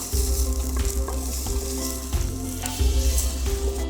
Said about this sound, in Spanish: Vamos a poner la cebolla y la vamos a revolver.